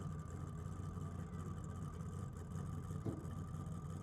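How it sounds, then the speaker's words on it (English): A Ford Capri drag car idles at a drag strip while creeping up to the pre-stage beams, a steady low engine rumble heard from a distance under crowd ambience, with one brief knock near the end. "the Capri basically just idling up to pre-stage"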